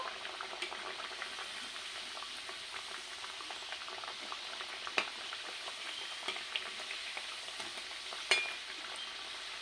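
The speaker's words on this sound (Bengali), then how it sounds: "তেল গরম হয়ে গেছে একটা একটা করে সব পিঠে আমি দিয়ে দেবো" Coconut-filled nim puri pitha frying in hot oil over low heat, a steady soft bubbling sizzle with a couple of brief clinks, no talking.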